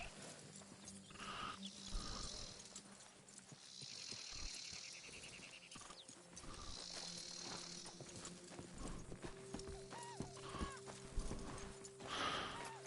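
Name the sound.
horse hooves and neighing in a video game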